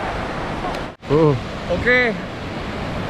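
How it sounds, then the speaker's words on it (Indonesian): Surf at Ngalur beach in Tulungagung, a steady broad wash of breaking waves with wind buffeting the microphone, under a man's brief spoken word. "Saat ini saya berada di Pantai Ngalur"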